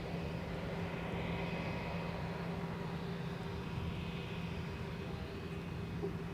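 An airliner takes off from runway 12 right at Minneapolis–St. Paul airport, its engines a steady broadband roar with a faint whine, held at constant strength throughout with no voices.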